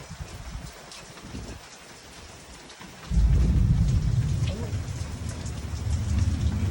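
A hail and rain storm pours down outdoors, a steady hiss of falling drops that swells suddenly into a heavy, deep roar with low thunder-like rumbling beneath.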